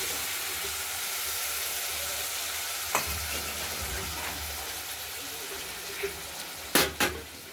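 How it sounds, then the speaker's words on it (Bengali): Tomato, spices and turmeric frying in a pan, a strong continuous sizzle close by, with a spatula knock near the middle and a couple of sharp scraping clanks toward the end. "মশলার সঙ্গে হলুদ দিয়ে একেবারে কষানোর জন্য দিয়ে দিলাম"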